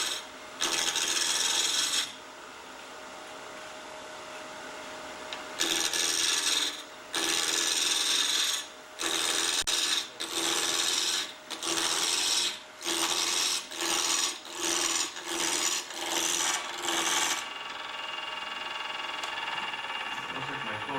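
A woodturner's gouge roughs out a yellowheart wood blank spinning on a lathe, producing loud, harsh rasping cuts in repeated bursts separated by short pauses, with no talking.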